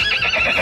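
A horse whinnies in a short, bright neigh with a wavering rise and fall, close and loud, with no speech over it.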